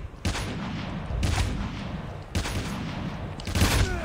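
Sniper rifle shots from the mobile shooter game Call of Duty Mobile, four loud sharp cracks spaced about a second apart, each ringing out with a short reverberant tail.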